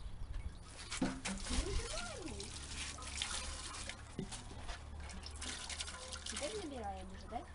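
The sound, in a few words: water being drawn, filling a container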